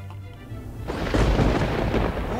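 Thunder rumbling in the area during a lightning storm, a low broadband roll that swells in partway through and keeps rumbling loudly with no talk.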